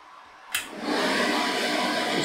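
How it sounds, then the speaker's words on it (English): A GX CS4 air compressor, used to fill an FX Impact M3 air rifle, switches on with a sharp click. A loud, steady broadband motor roar follows immediately and runs on without pause. It is close and has no voices over it. "Turn on the compressor."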